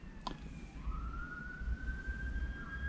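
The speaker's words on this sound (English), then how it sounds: "I'm hearing sirens" An emergency vehicle siren wails in the distance, one long rising tone fading in over a low background rumble, faint and with no one talking.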